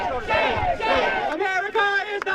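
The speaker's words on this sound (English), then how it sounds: "they were met by a crowd of protesters" Protesters gather outside a Trump golf course gala dinner, with several voices shouting together in loud, near chants that rise and fall in rhythmic bursts.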